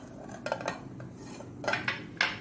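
Food is set into a cooking vessel, with light metal clinks and scrapes of utensil against pot in a few quick bursts, no talking.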